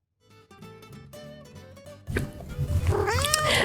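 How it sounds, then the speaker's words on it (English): A house cat meows and caterwauls close by, first with a few plaintive tonal cries and then louder, rising and falling yowls that grow more insistent toward the end. "We have a cat."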